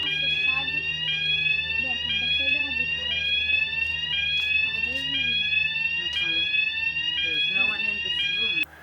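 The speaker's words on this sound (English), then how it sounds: "the alarm turned out to be a false fire alarm, triggered by a faulty detector" A fire alarm set off by a faulty detector shrills continuously with rising, repeating sweeping tones, loud and steady for nearly nine seconds while people talk faintly underneath.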